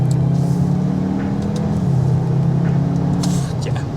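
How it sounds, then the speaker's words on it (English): Steady road roar inside the cabin of a 2021 Cupra Leon Estate 310 riding on 19-inch wheels over tarmac: a continuous low droning rumble with a faint hum on top, constant in level throughout. "there's just quite a bit of road noise that comes into the cabin"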